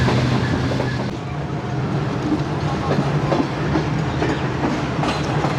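Shalimar Express passenger train rolling on rails as it slows near a station, a steady close rumble with faint clickety-clack and wind noise throughout.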